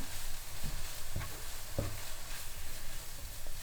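Vegetable roll filling with green chillies and chilli powder in a pan, a soft continuous sizzle with a few short scrapes of a spoon stirring, close and moderately quiet.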